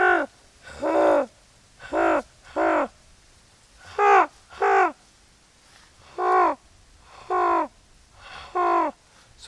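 A voice imitates a raven, giving a series of harsh, throaty caws in short bursts of one or two, spaced out with pauses between them.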